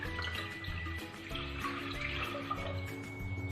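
Water is poured from a glass into a cooking pan while making agar-agar, a close, steady trickling splash that fills the whole short moment at moderate volume.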